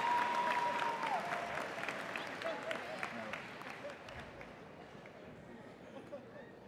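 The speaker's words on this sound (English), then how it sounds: "Now you can clap." A graduation ceremony audience bursts into applause, dense crowd clapping that starts loud and gradually tapers off across the hall.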